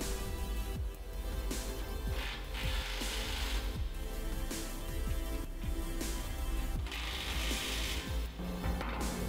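Repeated ratchet clicks from tightening bolts on a steel dust and fume collector structure during installation, quick rhythmic bursts fairly close, with a steady mechanical hum behind.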